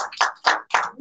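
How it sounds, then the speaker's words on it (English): Congregation in a church clapping hands together in a steady rhythm, four loud rounds of claps close by with brief pauses between, no talking. "Let's just give the Lord a hand clap for this place."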